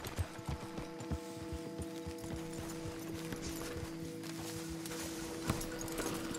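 Horses walking in the Red Dead Redemption 2 video game, a light irregular clip-clop of hooves close by over a soft hum of game ambience, with no talk.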